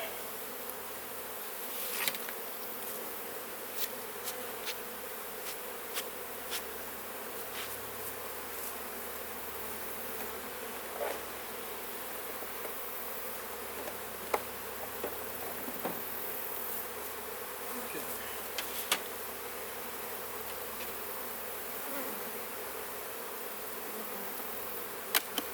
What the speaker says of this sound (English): there's a whole bunch of bees on the side of this box